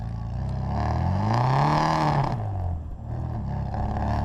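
A 1959 Bugeye Sprite's engine revs up and eases off during a test drive, its exhaust note rising in pitch and loudness to a peak before dropping back to a steady drone.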